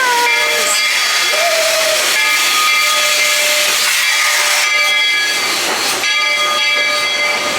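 A Magic Kingdom steam train lets out a loud hissing rush of steam with a whistle tone ringing through, then chuffs as it pulls away from Main Street Station.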